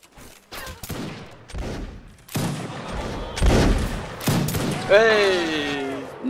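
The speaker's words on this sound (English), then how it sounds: "Keep on shooting." Video game gunfire rattles out in repeated volleys of sharp shots, loud and close, with a rising whine near the end.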